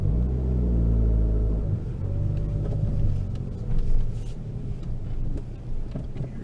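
A Fiat 500 Abarth engine rumbles under hard acceleration up a mountain grade, a loud low drone that swells and wavers with wind buffeting around the car and no voices.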